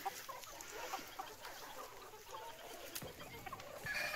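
Free-range Gavran country chickens cluck softly and sporadically at a distance in a fenced compound, with faint farmyard ambience and a quiet, hissy background.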